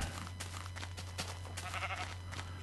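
A video game sheep bleats a few times over a low steady hum, with other bleats trailing softly in the background.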